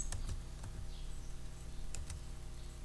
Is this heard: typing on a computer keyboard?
yes